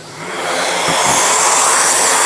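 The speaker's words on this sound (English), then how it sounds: "So I'll put the vacuum on now." A Bosch 18V 125mm random orbital sander with vacuum extraction switched on spins up into a loud, steady whooshing roar of suction and motor, continuous and close with no talking.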